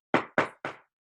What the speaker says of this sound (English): I knocked on the door and shouted